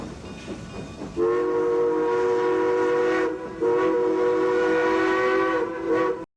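Steam whistle of a Durango and Silverton locomotive sounding two long, loud chime blasts with a brief break between, standing alone without talk.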